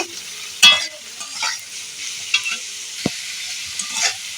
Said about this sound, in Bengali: এবারে এই টমেটো কুচিটা আমি দিয়ে দিলাম টমেটোটা একটুখানি নেড়ে নেব